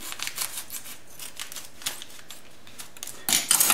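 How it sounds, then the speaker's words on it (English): Scissors snipping the tops off packets of active dry yeast, a run of quick crisp paper cuts close by, followed by a louder rustle of paper at the end. "Cut the top off from these."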